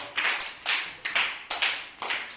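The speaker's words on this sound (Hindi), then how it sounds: "बहुत अच्छे, सभी लोग ताली बजा दीजिए।" A class of students claps in unison, five crisp group bursts spaced about half a second apart in a steady rhythm, with no talking.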